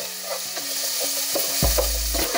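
Onion cooking in a pan with curry leaves and salt, a close sizzle broken by several stirring knocks and scrapes, ending with a louder clatter of the spoon against the pan.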